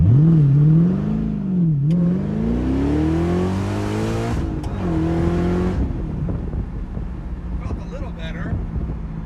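A 2005 Ford GT supercar accelerating hard from a standstill toward 60 mph on the street, its engine note rising steeply through the gears with brief shift breaks, loud and close with wind buffeting the microphone.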